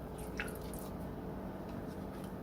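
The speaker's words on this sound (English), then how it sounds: "Then you're going to add a cup of ricotta cheese." Ricotta cheese spooned into pasta sauce for a lasagna, a soft wet squish and plop against a steady background hum, faint and close, with no speech.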